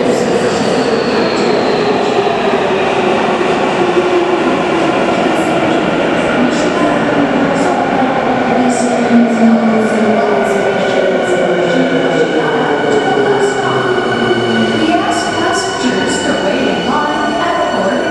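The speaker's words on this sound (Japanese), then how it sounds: "The Semi Express bound for 南栗橋 is arriving at track 2." Semi express train on the Tokyo Metro Hanzomon Line arriving at Sumiyoshi station, bound for Minami-Kurihashi, a loud continuous rumble with rising and falling wheel and motor whine, faint clicks and an announcement-like voice in the background.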